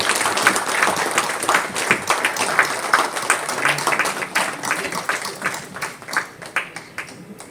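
An audience at a sanitation award ceremony applauds an award-winning foundation, steady clapping that thins into scattered individual claps as it fades.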